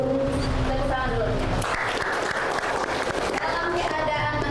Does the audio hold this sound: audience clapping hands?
yes